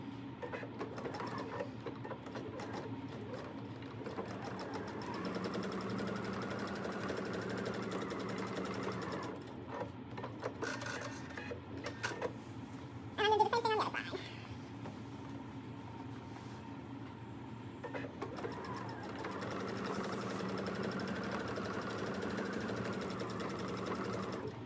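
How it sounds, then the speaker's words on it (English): A sewing machine runs in steady bursts, stitching across the gusset corner of a lined tote bag, with a short pause mid-clip and a brief sharper rattle before the motor resumes at a constant hum. "So I'm gonna stitch my line again,"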